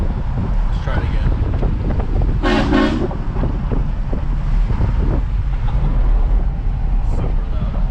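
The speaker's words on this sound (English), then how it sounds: "these 6 horns are extremely loud" A Horn Blasters six-horn kit on a vehicle gives one short, loud blast against steady wind and road noise, heard from inside with the windows up.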